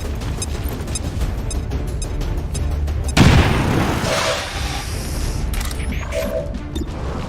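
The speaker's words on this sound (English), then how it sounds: "Grenade out." A grenade detonates in XCOM 2 with a loud, sudden boom partway through, followed by a crackling, debris-filled decay over rumbling battle ambience, with no talking.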